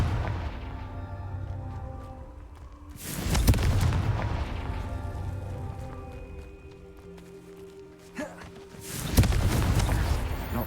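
A Confringo blasting curse erupts in Hogwarts Legacy, a loud booming explosion around the three-second mark followed by a second heavy blast near the end, each with a rumbling tail over a low ambient game score.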